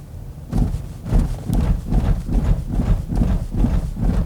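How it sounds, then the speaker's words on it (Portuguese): A Chevrolet Tracker LT 1.0 Turbo on 16-inch wheels thumps over a road stud again and again in an even rhythm of sharp knocks, each one close and clear, with no talk. "Vamos alinhar aqui o pneu com o tachão."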